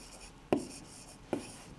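Two brief scratching strokes of handwriting, likely pen on paper, spaced apart with a quiet room in between, during a chemistry lesson, with no speech.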